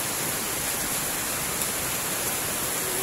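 Steady rain pours down outdoors in a dense, even hiss that fills the air without letup, a constant wash of falling water with no voices over it.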